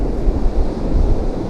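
Big waves roll in on the shore at Easington on the East Coast at night, a steady close rumble of surf with wind noise.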